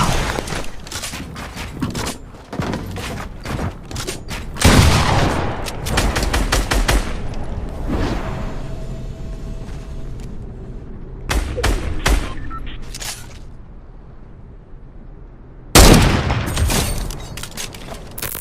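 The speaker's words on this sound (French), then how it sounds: "une superbe balle de sniper" Gunfire in a Fortnite match, with loud sharp shots and rapid bursts at close range, scattered across the clip and separated by quieter gaps with footsteps.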